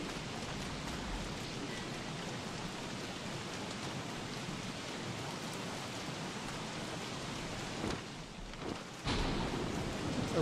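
Heavy rain and a storm in the video game Don't Starve hiss steadily, then a sharp thunder crack with lightning breaks in near the end, followed by a louder rumbling wash of weather.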